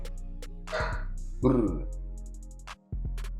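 A puppy barks a couple of times, sharp and fairly close, over a steady background hum with a voice nearby in a garage during brake caliper work.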